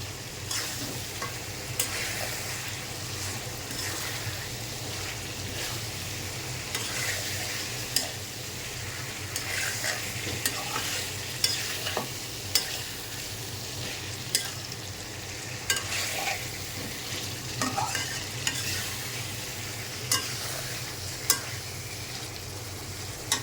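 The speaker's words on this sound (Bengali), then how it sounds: "আমি এখন 2 টেবিল চামচ তেল দিয়ে দিচ্ছি। তেলের মধ্যে মাংস কষানো আছে।" Mutton cooking in oil, a continuous dense sizzle close up, with scattered clicks and scrapes from stirring throughout.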